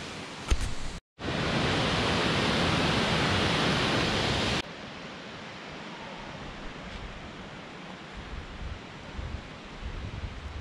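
Ouzoud waterfall in Morocco, a loud broadband roar of cascading water that drops to a softer, more distant steady rush partway through, with no talk.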